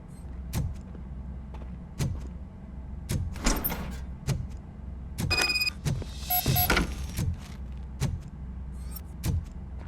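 A door being opened in RoboCop: Rogue City, with heavy mechanical thuds at a slow, regular pace, a few metallic clanks and bursts of scraping and whirring in the middle, all without speech.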